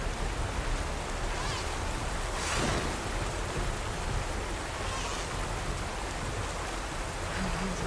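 Steady, dense rain falls in the video game Horizon Forbidden West, a continuous close hiss with no break over the whole stretch.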